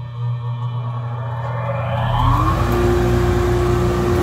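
A RIKON 1HP portable dust collector motor starts up around the two-second mark, its whine rising in pitch and settling into a steady, moderately loud hum that continues to the end.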